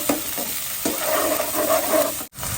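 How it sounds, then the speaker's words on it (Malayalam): Onions stirred and sautéed in hot oil sizzle steadily, with scraping stirs of the spoon at a close, moderate level and no talking. "സവോള നല്ലവണ്ണം ഒന്ന് ഇളക്കി വഴറ്റിയെടുക്കാം നമുക്ക്"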